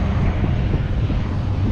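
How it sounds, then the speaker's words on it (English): A large Globemaster military airplane at an airshow gives a loud, steady engine roar with broad rumbling noise throughout a short stretch. "If I'm not mistaken, it's a Globemaster or Global Master."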